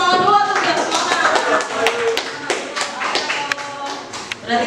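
A school class claps hands together, a burst of sharp, uneven claps mixed with tapping and chatter from the room, fairly close and loud.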